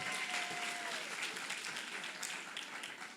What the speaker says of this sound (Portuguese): Dá uma salva de palmas mais forte aí